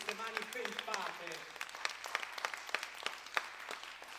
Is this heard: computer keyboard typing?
no